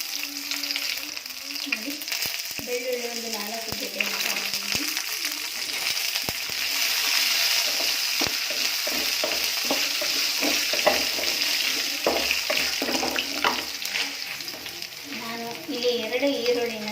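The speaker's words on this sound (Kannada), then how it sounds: "ಸೋಂಪು ಕಾಳುಗಳನ್ನ ತಗೊಂಡಿದ್ದೀನಿ ಈಗ ಎಣ್ಣೆ ಒಳಗೆ ಹಾಕಿದ್ದನ್ನು ಫ್ರೈ ಮಾಡೋಣ" Fennel seeds and four chillies frying in hot oil in a pan for a Kannada chicken snack recipe: a steady, close sizzle with crackling pops and occasional stirring scrapes, under a faint voice.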